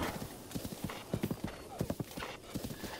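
Horse hooves clip-clop in an uneven trotting rhythm during riding in the Breath of the Wild video game, fairly close and moderately loud, with a faint whinny and little talk.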